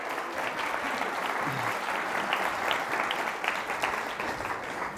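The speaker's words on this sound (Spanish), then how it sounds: "Fuerte aplauso para la señora hormiga." A live audience at a Spanish-language storytelling performance claps steadily throughout, a dense, even wash of applause at moderate volume with no voices on top.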